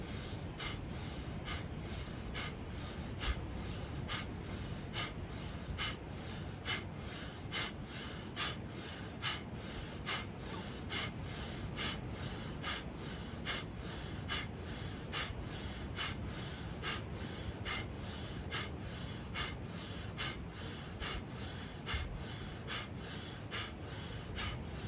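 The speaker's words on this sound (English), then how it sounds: "So we're breathing in, out, in, out." Deep, rhythmic breathing in and out, with steady forceful exhales repeating at an even pace of about one per second, close and unbroken for the whole stretch, with no talk.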